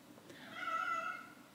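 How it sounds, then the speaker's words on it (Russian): A pet cat gives a single drawn-out meow at close range, rising and holding briefly before fading, with no talk over it. "Мяукаешь, мяу-мяу."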